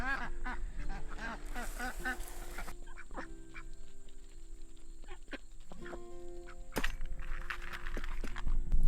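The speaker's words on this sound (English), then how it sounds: "I'm going to try to put the duck feed in a shady spot over here." A flock of ducks quacks at feeding time on a hot day, with repeated quacks and honks mixing with outdoor background noise and a steady hum.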